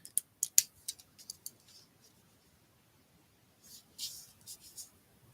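Scissors snip through paper for a handmade album card, a quick run of sharp close cuts at the start and another cluster of crisp snips near the end, with a quiet pause between.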